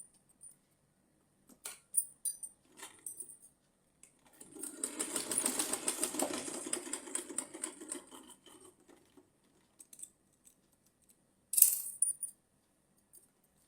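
A sewing machine stitching the folded edge of a small doll dress, one burst of rapid mechanical whirring running a few seconds in the middle, between scattered light clicks and handling noises, fairly quiet and close.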